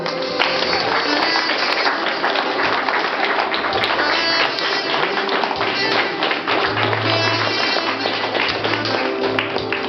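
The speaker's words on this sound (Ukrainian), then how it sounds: "Зустрічайте оплесками нареченого Ткачука Миколу Валентиновича" Dense, loud, sustained applause from wedding guests greeting the groom at an outdoor ceremony, a continuous wash of many hands clapping for the full ten seconds.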